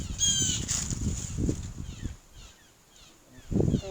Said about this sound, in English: There's a very angry bird behind me.